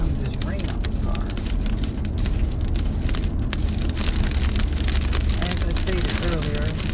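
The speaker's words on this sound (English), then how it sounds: "Some of this rain on the car." Steady rain drums on a car during an approaching storm, a dense, constant patter close by that fills the whole stretch, with a voice talking faintly underneath.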